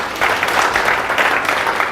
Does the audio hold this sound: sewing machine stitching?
no